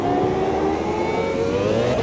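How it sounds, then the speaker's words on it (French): Screaming F1 V10 race car engine in the sim racing game Automobilista 2, a loud, sustained high-revving whine that rises slowly in pitch, heard alone without talk. "ces V10 là. Et le son, ouais. Le son est juste incroyable."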